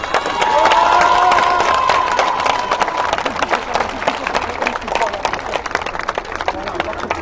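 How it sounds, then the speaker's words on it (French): Large crowd at a justice rally for Adama Traoré applauding and cheering loudly and continuously, with voices and shouts mixed into the dense clapping throughout. "Allez, applaudissez, donnez-lui de la force."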